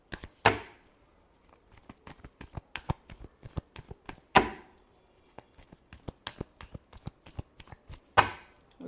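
Tarot cards shuffled by hand, a series of soft slaps and riffles with three sharper snaps spaced across the stretch, close and fairly quiet, no talking.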